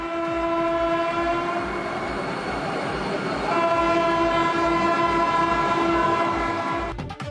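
A Vande Bharat train runs past with a loud, sustained horn blaring over the steady rumble of the cars, the horn holding for several seconds before the sound breaks off in a few sharp clicks.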